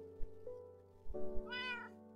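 A cat meows in Minecraft with the Direwolf20 modpack: a short, quiet call, then a longer, rising, whiny meow near the end, heard alone.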